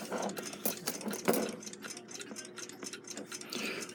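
A Westclox Big Ben 5A loud alarm clock movement under rebuild, ticking in a steady fast rhythm close up, with handling clicks and light rustling mixed in, no talk.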